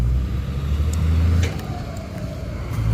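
A ten-wheel truck at a pit site sends out a steady, loud low engine rumble close by as it backs up, with a few faint higher clicks over the drone.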